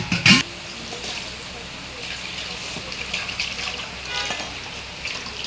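Cleaned fish of the vaydya kind being rinsed under running water, with a steady rushing, splashing flow after a brief louder burst at the start.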